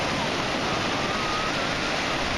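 Ocean surf rolling onto a beach with a steady, loud wash of breaking waves and no clear pauses.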